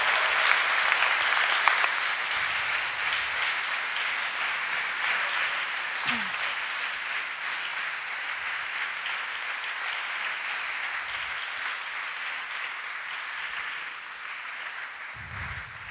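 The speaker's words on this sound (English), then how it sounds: "you deserve your great applause" A conference audience gives sustained applause, a steady, even wash of many hands clapping at moderate distance that holds throughout and thins slightly near the end.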